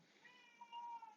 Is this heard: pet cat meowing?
yes